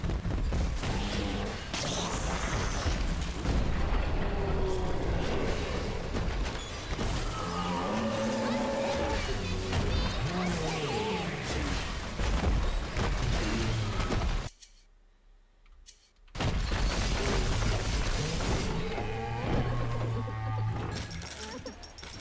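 An explosion in Bioshock 2 erupts as a loud, dense roar of shattering and crashing debris that runs on for many seconds, breaks off into a brief near-silence, then resumes as heavy rumbling.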